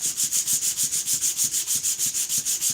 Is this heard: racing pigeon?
no